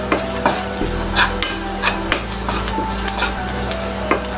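Cassava curry ingredients are stirred while frying in oil. A spoon scrapes and knocks against the pan in a loose rhythm of clear strokes over a steady nearby sizzle, with no talking.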